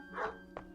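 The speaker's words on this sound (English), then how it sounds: "That's Bill Soames's collie" A collie barks twice, short and fairly faint, the second bark brief and sharper than the first.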